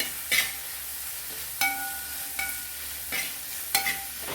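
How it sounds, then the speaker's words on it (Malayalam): A spoon stirs a frying mixture for beef curry in a pan, giving about five distinct scraping strokes over a soft, steady sizzle, close and with no talking. "ഇനി ഒന്ന് ഇളക്കി കൊടുക്കാം"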